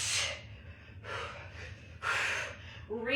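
Someone exhales hard and breathes heavily during a full-body workout exercise, giving several close, forceful breaths of air in uneven bursts.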